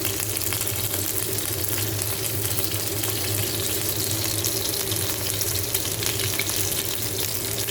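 Chicken kalonji chapli kebab frying in oil in a pan makes a loud, continuous close-up sizzle. It holds steady throughout while the kebab is flipped, with faint stirring and scraping underneath.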